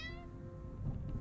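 A cat in the video game Copycat lets out a short, close meow at the start, followed by a low, soft rumble of game ambience.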